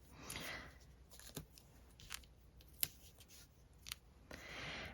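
Washi tape being applied to a card front in papercraft: short tearing and pressing rustles, a sharp snip-like click in the middle, and soft scraping swishes at the start and end, quiet and close.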